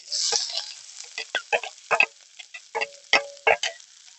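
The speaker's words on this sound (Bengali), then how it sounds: "এবার সমস্ত কিছুকে একটু লাল লাল করে ভেজে নেবো" Chopped onion, split green chilies and dried red chili frying in hot oil with black cumin, sizzling close up while a spatula knocks and stirs in a series of sharp, irregular scrapes.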